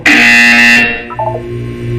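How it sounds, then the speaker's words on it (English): A loud electronic buzzer from the Portal 2 video game sounds steadily for nearly a second, then cuts to a lower, fainter hum with brief tonal blips, no talk over it. "You will hear a buzzer."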